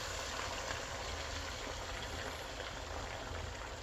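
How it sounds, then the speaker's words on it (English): Eggs go into a hot Canadian Findlay No. 9 cast iron skillet after bacon and sizzle in a steady, faint hiss, with no voices. "I'm going to take in, pour the eggs in."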